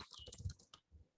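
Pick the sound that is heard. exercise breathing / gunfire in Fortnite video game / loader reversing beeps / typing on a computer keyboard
typing on a computer keyboard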